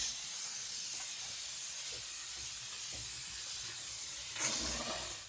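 A BISSELL SteamShot Deluxe hard-surface steam cleaner blasts a steady, close hiss of steam over a stovetop, continuous throughout with a brief louder spurt near the end.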